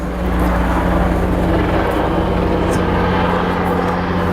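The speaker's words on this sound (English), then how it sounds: "That's the plane." A steady low drone of an airplane passing overhead, continuous and moderately loud with a broad rumble throughout, no voices over it.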